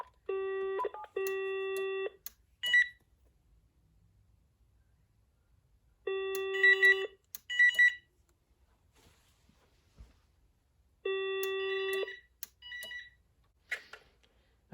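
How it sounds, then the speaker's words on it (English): A cordless phone plays electronic tones from its speakerphone while an answering machine is being tested. Three similar sequences of beeps and warbling tones sound a few seconds apart, separated by near silence, with no speech. "We'll call it up directly from the testing answering machine and then hang up"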